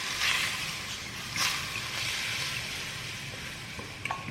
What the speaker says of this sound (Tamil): ஸோ இப்போ இந்த சூடு எண்ணெயை இதில் ஊற்றிடலாம்.